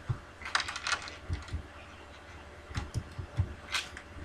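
Light, quick keystrokes on a computer keyboard in scattered bursts of clicks, close and fairly quiet, with short pauses between groups.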